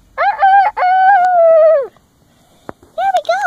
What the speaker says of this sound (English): I got up before the rooster crows.